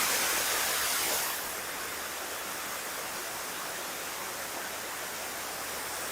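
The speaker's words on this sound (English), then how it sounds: "Under the waterfall." An aeration waterfall at a lake in Regina pours with a dense, steady broadband rush, close and loud, the roar easing slightly after the first second and then holding constant.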